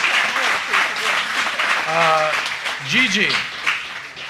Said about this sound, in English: Clap it up for that answer